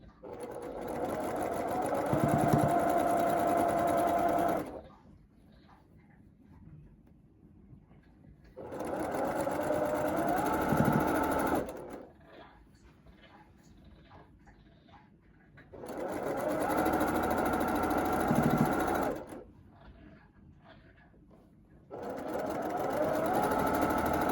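A sewing machine stitches a Georgia Beauty quilt block in three or four steady bursts of rapid whirring, separated by short pauses with quiet handling and soft talk.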